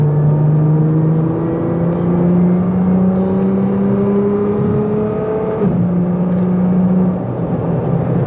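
A 2017 Nissan GT-R Nismo accelerates hard at speed, its loud engine note climbing steadily through the gears with a brief dip at a gearchange before rising again.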